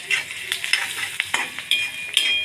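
Onion frying with salt in a pan, a close, busy sizzle broken by quick stirring scrapes of a spoon against the pan, with bright crackling throughout.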